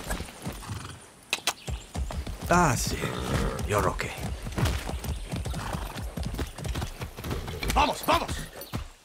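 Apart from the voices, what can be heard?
horse hooves and neighing in the video game Far Cry 6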